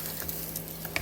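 Donuts fry in hot oil with a soft, continuous sizzle and faint bubbling, quiet and close, with a couple of light clicks.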